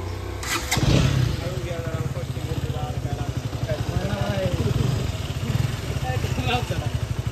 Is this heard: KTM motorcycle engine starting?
yes